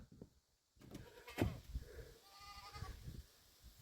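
Goats bleat on a farm amid general animal commotion, with one loud nearby bleat standing out over softer, scattered calls and rustling.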